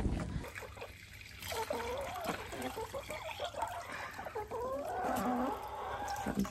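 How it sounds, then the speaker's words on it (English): Fresh water trickles steadily while a chickens' water crock on a farm without running water is refilled, a close continuous dribble with clucking hens audible through it. "Some fresh water for the chickens."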